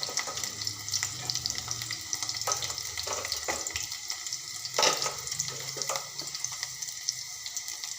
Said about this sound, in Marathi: कांदा कांदा सोडणार आहे नंतर बारीक चिरलेला लसण सोडणार आहे